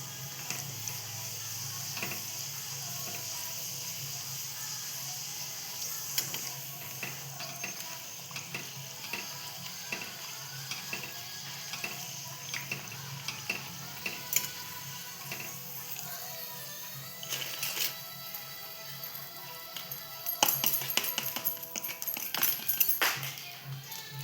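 Small potato papads frying in hot oil, a continuous crackling sizzle with scattered clicks and bubbling that grows busier and louder toward the end, close-up and without talk.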